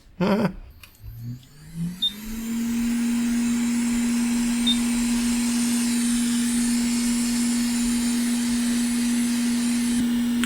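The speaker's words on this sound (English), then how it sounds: "and then you heat it with your hot air gun" A hot air gun heats a heat-shrink sleeve slid over tape on a portable soldering iron, a rising whine settling into a loud, steady blowing hum with a constant tone that runs alone for several seconds.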